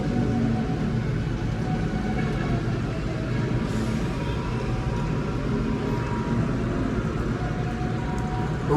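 A Whirlpool automatic washing machine runs with a steady, dense mechanical rumble and wash, constant and fairly loud throughout with no talking.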